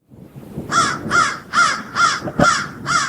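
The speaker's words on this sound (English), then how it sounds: "And here is the sound of an American crow" An American crow (Corvus brachyrhynchos) caws six times in a steady, evenly spaced series, loud and close, with a low rumble of background noise beneath the calls.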